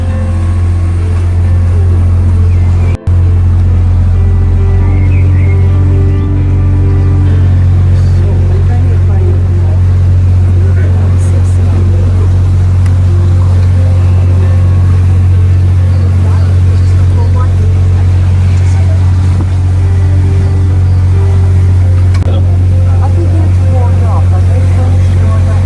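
A canal tour boat engine drones steadily at close range for the whole stretch on the canals of Bruges, Belgium, low and continuous, with one sharp knock early on and no clear talk.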